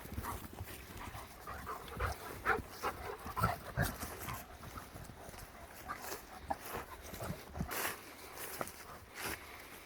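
Dogs romping outdoors on a trail during a quick morning stop, with steady panting, scuffling paws and occasional whimpers, moderately close and continuous.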